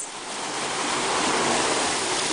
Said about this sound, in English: we're walking down the stream. The water is flowing down this